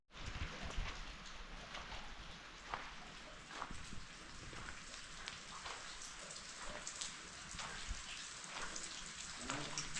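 Rain falls steadily and densely at a construction site, a constant hiss with scattered drop pattering on surfaces, fairly faint and even throughout with no voices.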